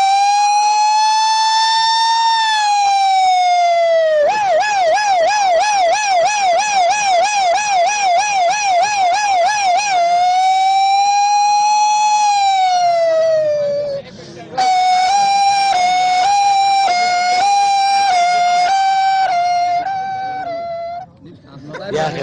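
Loud electronic police emergency siren wailing in long rising and falling sweeps, then switching to a fast warbling yelp, with a brief cut midway before resuming with sharp stepped tones; no talking over it.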